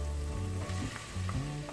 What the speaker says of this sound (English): mix it and add the chopped tomatoes to the pan